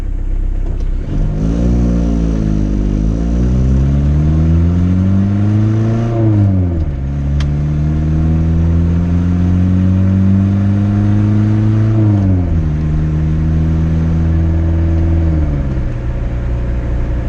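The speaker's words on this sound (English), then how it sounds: "So this is a 1985 Isuzu Diesel." A 1985 Isuzu diesel pickup engine revs up and down in repeated loud sweeps, climbing and falling in pitch over a steady, close rumble with no talk.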